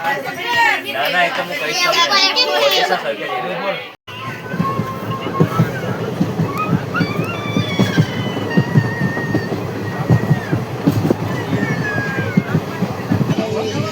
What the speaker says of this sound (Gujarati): હવે અમે ટ્રેનમાં બેસી ગયા છીએ